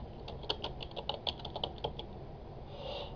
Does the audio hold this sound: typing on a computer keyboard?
yes